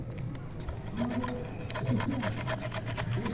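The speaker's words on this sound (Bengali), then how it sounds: "আদাটা এখন এই ঘষেনটা দিয়ে ঘষে রস বের করে নেব" Unpeeled ginger with its skin on is rubbed against a handheld grater in a home kitchen, giving a steady rasping scrape in repeated strokes, fairly close and moderately loud with no talk.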